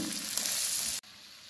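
Jackfruit pieces sizzle as they fry in a pan for biryani and are stirred with salt. The steady, loud frying hiss cuts off abruptly near the end, and no one speaks.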